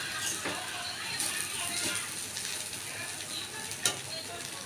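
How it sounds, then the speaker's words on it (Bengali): A spoon stirs sugar into a flattened-rice pulao in a pan, making steady scraping and sizzling frying sounds with a few sharper clicks of utensil against metal. "চিনি দিয়ে একটু ভালো করে চারিদিকে নামিয়ে দেবো"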